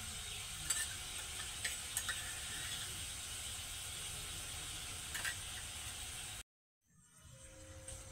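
Ginger paste going into a pan of sizzling oil while cooking a vegetarian potol dish, with a steady faint frying hiss and a few light clicks of stirring, cutting out abruptly near the end before resuming.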